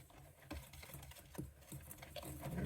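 Dry crumpet ingredients being stirred in a bowl, a faint, quick patter of scraping and tapping strokes with no voices.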